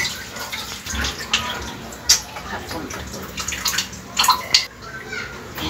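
Water splashes and sloshes inside a Coke bottle being rinsed out, in irregular close bursts with a few sharp clinks, while a voice speaks in the background.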